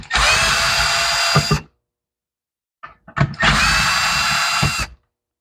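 A power drill whirs in two loud bursts, each about a second and a half, as it backs bolts out of the carburetor on an old lawn mower, with a gap and a few clanks between them.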